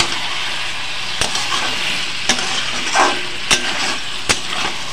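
Hot crushed kasuri methi hits dum aloo in a pan, giving a steady loud sizzle and frying hiss with a few sharp clinks of a spoon against the pan.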